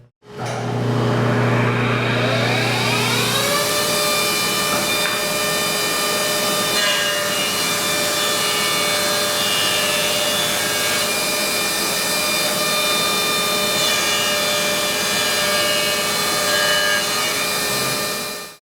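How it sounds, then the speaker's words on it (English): A Baileigh JP-1686 jointer/planer with a helical carbide-insert cutter head runs alongside a dust collector, spinning up into a loud, steady whining drone that holds for the full length and then cuts off abruptly. "So let me fire up my dust collection and run some stock."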